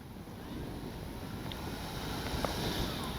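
Gusty wind buffets the microphone at an RC airfield, a continuous rumbling roar that swells and eases, loud and close with nothing else clearly heard.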